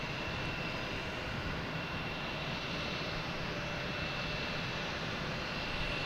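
Turkish Airlines airliner taxiing at Boston Logan, its jet engines giving a steady, even roar that holds at one level throughout, moderately distant with no voices.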